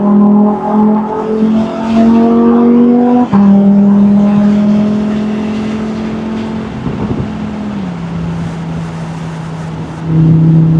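A Lamborghini Huracan Spyder LP610 engine drones at steady pitch, then drops abruptly as it downshifts, holds, and upshifts later, loud and close throughout.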